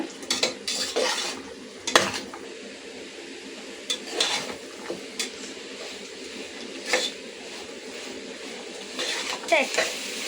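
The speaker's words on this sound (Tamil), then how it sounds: "எல்லாம் மசாலா சேர்த்தோன்னே நம்ம எல்லாம் கிளறி விடலாம்." A spoon stirs and scrapes vegetables with masala in a pan, with soft sizzling under irregular clinks and scrapes against the metal; no talk.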